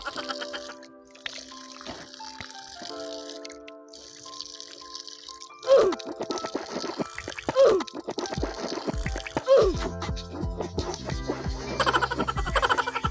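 Water from a natural spring pours and splashes as hands are washed before drinking, with scattered drips and plops, faint at first, then louder, irregular splashing.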